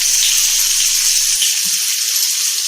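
Steamed muthiya pieces hitting hot oil in a pan, a loud, continuous hiss of sizzling that fills the brief moment without any voices.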